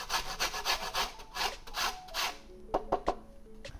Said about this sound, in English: grate the entire lemon zest in